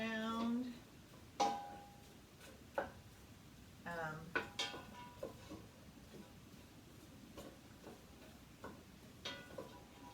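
Mushrooms stirred in a pot for soup, with scattered spoon clinks and scrapes against the pot, fairly quiet, alongside brief faint voice sounds.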